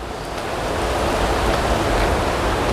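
Creek water flowing beneath a bridge on an Appalachian Trail crossing, a steady broadband rushing wash that stays loud and even throughout, with no voices.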